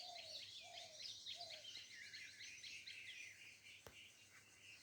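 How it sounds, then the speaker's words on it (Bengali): Several birds call on a cloudy morning after rain around a village home: repeated short descending whistles in front, a busy chorus of chirps and tweets behind, faint and fairly distant. "পাখির ডাক, কত যে পাখি ডাকে।"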